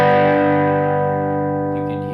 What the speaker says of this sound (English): when I hit it lightly, you can hear it's distorting, it just sounds like a normal note, but when you hit it hard